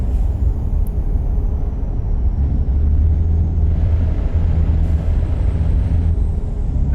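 An International Lonestar truck in American Truck Simulator, in Nevada, drives hard through traffic with a steady loud engine rumble throughout and a faint high whine drifting in pitch.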